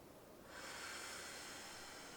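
A single faint, airy breath from a person holding a hamstring stretch in a restorative yoga session, a soft hiss that swells after a brief quiet start and then holds steady, close and alone.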